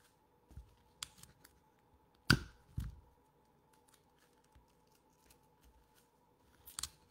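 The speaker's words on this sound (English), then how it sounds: "So I'm just gonna keep on taping here." Tape is pulled and torn while making an Olympic torch craft, giving a few sharp, close ripping and crinkling bursts separated by quiet gaps, with no talking.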